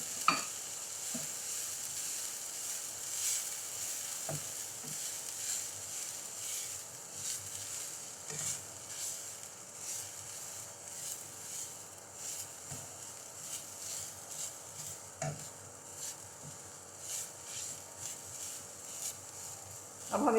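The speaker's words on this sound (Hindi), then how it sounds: "सब्जियों के साथ चिकन को अच्छी तरह से मिक्स कर लेंगे।" Boiled, fried chicken being stirred into fried cabbage and vegetables in a pan for spring roll filling, a soft continuous sizzle broken by scraping stirs and occasional louder clanks, with no one talking.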